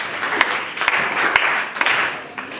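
An audience claps for students after their ICT skills display, a moderate round of applause with a few distinct louder claps punctuating the steady patter, fading slightly near the end.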